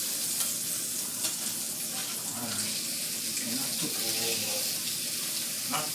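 Burger patty sizzling and frying in a pan after being flipped at home, a steady close hiss of fat with some scraping and faint kitchen clatter, no talking over it.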